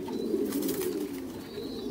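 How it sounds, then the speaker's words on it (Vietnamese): Pigeons in a caged pigeon farm in Vietnam coo in soft, throaty, overlapping calls, a continuous murmur from many birds close by with no talking. "ở trại mình nuôi nhốt chim bồ câu thì rất là hiệu quả luôn"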